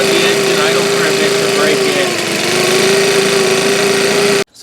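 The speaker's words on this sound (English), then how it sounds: "we'll just let the engine idle for a bit" A new Senix gas leaf blower engine idles close by after its first start, a loud, even two-stroke buzz that wavers slightly midway and then cuts off abruptly at the end.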